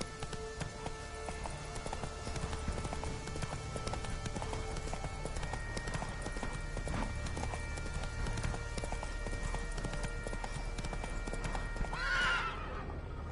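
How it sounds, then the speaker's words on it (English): A horse gallops in a video game with steady clip-clop hoofbeats over a constant background, and a neigh rises near the end. "Whoa there, Roach."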